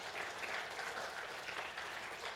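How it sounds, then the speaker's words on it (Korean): A church congregation at an Easter Sunday service applauds, a dense, steady clapping of many hands that sounds somewhat distant and fills the whole short moment. "또 우리 격려의 박수 부탁드리겠습니다."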